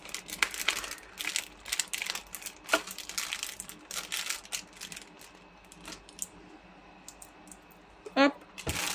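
Close-up crinkling, tearing and rustling of a taped package being pulled open, with irregular bursts of paper and plastic noise.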